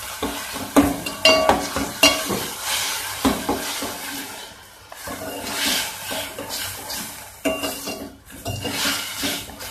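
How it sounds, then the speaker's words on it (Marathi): Tomatoes sautéing in a pan for a Malvani-style clam curry, a sizzle broken by repeated spoon scrapes and stirring clatter that swell and fade in uneven waves, no voices heard. "टोमॅटो हे सगळं जरा परतून घ्यायचं आहे आपण व्यवस्थित"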